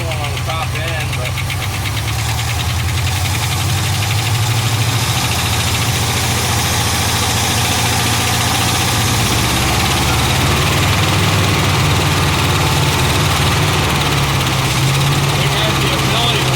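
A 1975 Ford F500 rollback truck, abandoned in a field for 17 years, idling loud and close with a steady low rumble and a rattling top end, while someone talks over it.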